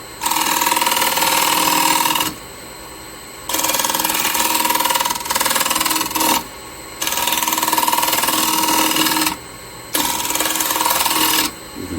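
A wood lathe spins while a gouge cuts a bowl, a loud steady whir with a tonal hum and cutting noise, broken by four short drops in level as the tool lifts off the wood.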